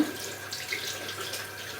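Tap water runs steadily over a cosmetic sponge, softening it, as a soft continuous hiss of flow fills the short stretch with no talking.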